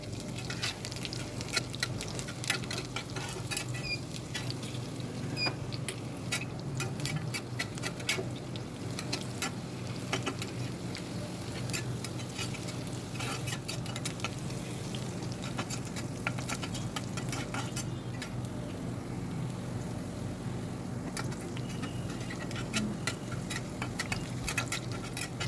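Food browning in hot oil in a wok while cooking drumstick leaves, giving a steady, dense crackle and patter that runs unbroken for the whole stretch at moderate loudness.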